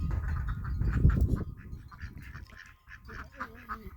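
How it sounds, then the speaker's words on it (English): Ducks quacking in a backyard flock kept alongside chickens, a cluster of nasal calls close by with louder bursts early on and softer scattered quacks later, a faint voice mixed in. "The ducks here, it's not quite bedtime for them yet."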